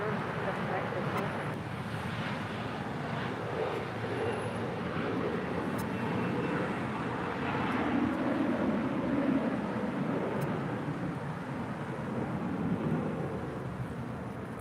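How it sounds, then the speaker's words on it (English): An Alaska SkyWest Embraer E175LR jet departs LAX as a broad, steady engine roar that swells slightly and holds for the whole stretch, with a voice talking faintly beneath it. "That is Alaska SkyWest 3376 departing to San Francisco on a 6-year-old Embraer E175LR."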